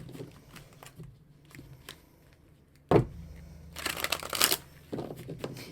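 Tarot cards shuffled by hand with small hands: soft rustling riffles and flicks, quiet at first, then a sharp card-snap followed by a louder burst of dense shuffling, close and with no voices.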